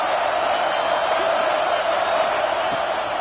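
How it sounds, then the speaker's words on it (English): Steady, dense roar of a football stadium crowd cheering on second down, loud and continuous throughout with no break or swell. "This crowd even louder now on 2nd down as they try to hold on."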